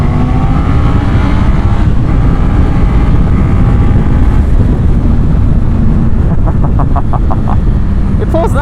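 A Honda CB650R inline-four motorcycle roars loudly on a road ride, its engine droning and rising under heavy wind rush, with riders' voices breaking in over the noise.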